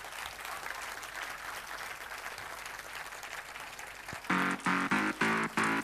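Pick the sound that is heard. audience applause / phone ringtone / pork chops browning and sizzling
audience applause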